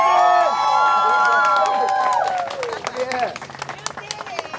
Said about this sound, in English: You should be cheering them.